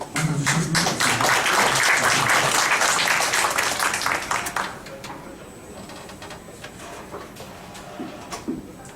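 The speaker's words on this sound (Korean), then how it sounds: "먼저 올라오셨는데 큰 박수로 맞아주셨으면 좋겠습니다." Audience applause welcoming a speaker in a university lecture room, loud dense clapping for about four seconds that fades to scattered claps and quiet room sound.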